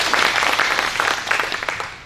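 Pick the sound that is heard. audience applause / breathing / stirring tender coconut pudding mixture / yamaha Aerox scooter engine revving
audience applause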